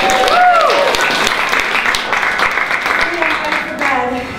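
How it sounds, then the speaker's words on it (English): An audience applauds the Theater of Public Policy improv comedy group, a loud, sustained burst of clapping with a few voices and cheers mixed in, easing slightly toward the end. "a big round of applause for the Theater of Public Policy"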